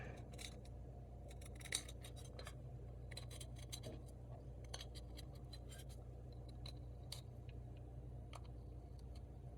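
A craft blade slices cloth wrapped over a metal guitar pedal enclosure, giving faint, scattered scratchy clicks and snips over a steady low hum, quiet and close with no talking.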